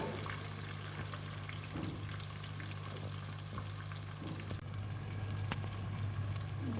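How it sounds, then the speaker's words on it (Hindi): Chopped onions fry lightly in oil, giving a soft continuous sizzle over a low steady hum. There are a few faint clicks, and the sound is fairly quiet with no talking. "प्याज को फ्राई कर लेंगे हल्का सा"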